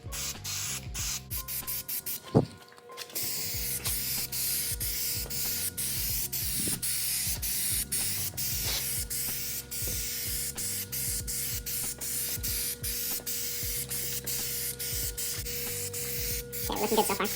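An aerosol spray paint can coats a Honda Prelude side skirt in one long, steady hiss lasting over ten seconds after a brief pause and clack near the start, with faint ticking in the background and no talk.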